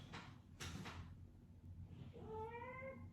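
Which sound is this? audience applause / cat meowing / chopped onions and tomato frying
cat meowing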